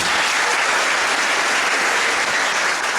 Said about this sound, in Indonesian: Tepuk tangan untuk Tuhan Yesus dulu